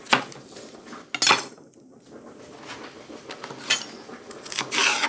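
A knife slices half a leek lengthwise on a board, making a few sharp scraping cuts and rasping strokes against the wood, close and fairly quiet, with no talk.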